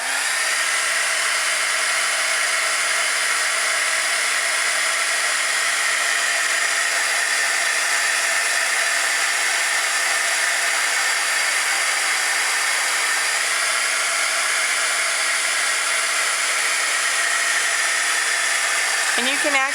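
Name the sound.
heat tool drying Mod Podge on tissue paper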